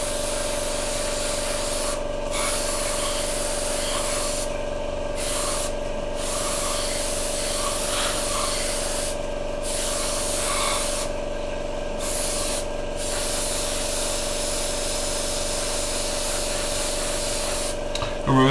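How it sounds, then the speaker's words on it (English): An airbrush hisses continuously, close and steady, as it sprays a thin coat of paint onto an Italeri 1/72 Jaguar T2 scale model, with brief dips where the spray pauses. "When you're spraying, obviously paint is very thin"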